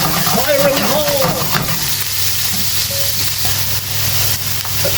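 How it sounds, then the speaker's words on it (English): Steady hissing sizzle of cumin hitting hot oil in a pan, with some clatter and a brief voice early on. "Let's add a touch of cumin, flavour the oil."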